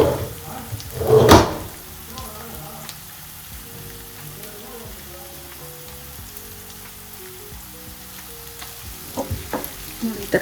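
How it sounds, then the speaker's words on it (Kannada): Tomato masala for tomato chitranna frying in oil, a continuous close sizzle with an early burst of louder spattering and occasional scrapes of stirring, no talk. "ನೋಡಿ ಈ ಥರ ಚೆನ್ನಾಗಿ ಫ್ರೈ ಆಗಬೇಕು"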